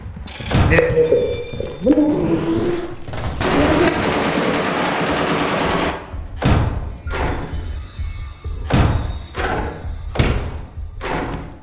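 Turret gunfire in a video game rattles off from just beyond a door in a sustained loud burst, followed by several sharp, heavy thuds and shots spaced a second or so apart, with a voice talking briefly.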